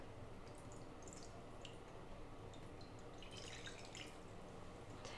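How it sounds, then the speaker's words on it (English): Water runs into a shallow dish, filling it an inch or two deep with a steady, continuous trickling and splashing that carries on unbroken from start to finish, close by, with no voices. "fill our shallow dish with an inch or two of water."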